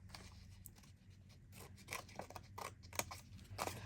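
Scissors trim paper for a library pocket in a quiet room, giving a series of faint, crisp snips and light rustles in an irregular rhythm.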